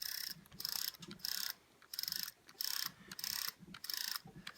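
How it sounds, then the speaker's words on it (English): Small robot arm gripper motor and cogs turned by hand, giving repeated bursts of light mechanical whirring and clicking in a steady rhythm, close and fairly quiet with short pauses between turns. "as I rotate this, you can see that this motor is rotating"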